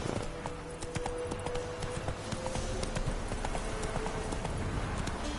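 Roach the horse gallops in the Witcher 3 video game, sending out a fast, steady run of hoof clip-clops under a constant background hum, with no pauses.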